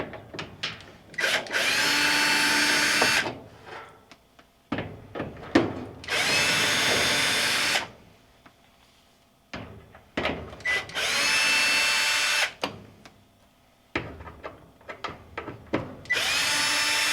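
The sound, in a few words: drill with flexi extender during dryer repair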